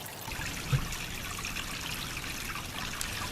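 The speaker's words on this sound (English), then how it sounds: "that's my water feature" Water trickles steadily from a small garden pond water feature, a continuous close splashing babble with one soft thump early on.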